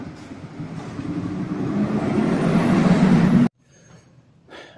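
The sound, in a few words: garbage truck driving past with air brakes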